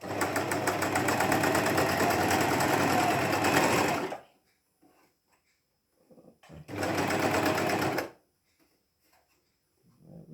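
A Janome Coverpro 3000 sewing machine stitches in two loud, steady mechanical bursts, one about four seconds long and then a shorter run after a pause, with near silence between.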